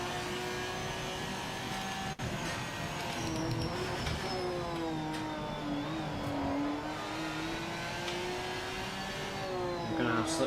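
A Maserati MC12 engine drones and revs in a racing video game, a steady mid-pitched whine that rises and falls through gear changes, with a sharp brief click early on and no talk.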